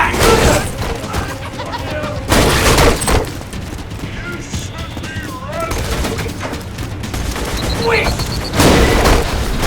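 Gunfire and a grenade blast in Borderlands 2, with loud bursts of shots and booming hits at the start, middle and end, a quieter stretch between them, and a voice talking over the action.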